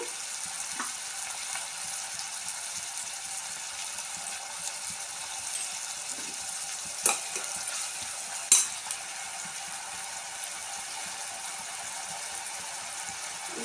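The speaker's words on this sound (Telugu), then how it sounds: "ఉల్లిపాయ తొందరగా వేగాలంటే ఇంకా నేను సాల్ట్ అయితే వేసేస్తున్నాను" Sliced onions fry with salt in a pan for a home-style curry, a steady, close hiss of oil broken by a few sharp clicks of stirring, with no one talking.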